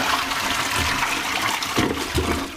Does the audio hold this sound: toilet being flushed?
yes